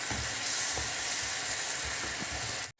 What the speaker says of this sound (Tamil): மசாலா வந்து கொதிச்சிடுச்சு.